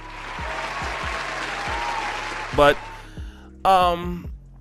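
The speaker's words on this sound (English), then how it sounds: "Let's give a round of applause for Loni Love" Studio audience applause for comedian Loni Love, a steady mid-level wash of clapping that fades out and gives way to a few louder bursts of voice near the end.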